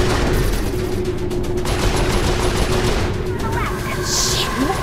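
Turret gunfire in Saints Row 4, a steady rattling barrage that runs throughout over dense game noise, with voices talking over it.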